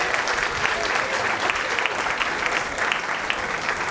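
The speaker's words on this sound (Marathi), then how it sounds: "जोरदार टाळ्या होऊन जाऊ द्यात" An audience gives a lively round of applause after a lecture at a smartphone filmmaking course, the clapping dense, loud and sustained throughout with no gaps.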